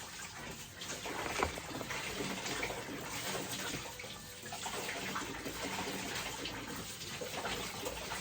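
Continuous splashing and rushing of water from a rotating jet flow nozzle in a newly filled reef tank, steady and close up, with no voices.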